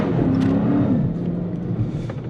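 A Dodge Charger R/T with a 5.7 Hemi V8 rumbles close by, a deep steady engine note with a brief rise in revs, loud and continuous without any talking.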